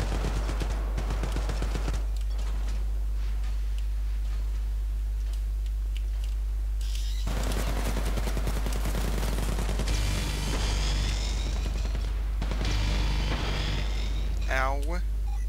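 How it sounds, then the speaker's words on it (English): Gunfire in the Syndicate shooter video game, with bursts of automatic fire and sharp shots mixed with game effects and a voice talking over the action. "Gunfire up ahead."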